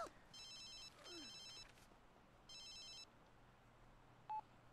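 A telephone rings in The Sims 3 video game, three bursts of a bright electronic trill separated by short pauses, faint over quiet game ambience, followed by a brief beep.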